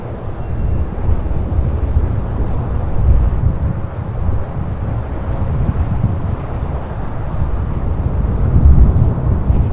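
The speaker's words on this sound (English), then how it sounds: "Aeromexico Flight 782 coming in from Guadalajara in a 737-800 arriving here on the south side" A Boeing 737-800 jet arriving at LAX on the south side, a steady loud roar of engine and wind-like rumble that holds for the whole stretch with no talk over it.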